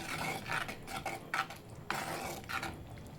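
Metal utensil scraping and clinking against a pot in repeated stirring strokes as vatha kuzhambu curry is mixed, close by, with a faint simmering hiss underneath.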